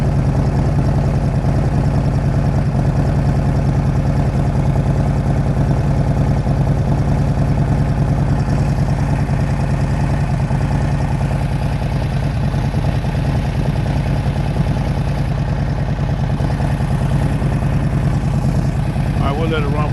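A Harley-Davidson motorcycle with a big 135 engine idles steadily and loudly up close, a dense continuous rumble with no break across the whole stretch.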